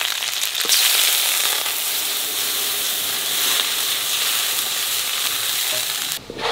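Water poured into hot oil with green chilies in a kadai for cooking nalte greens gives a loud, steady sizzle and hiss throughout, with no talk.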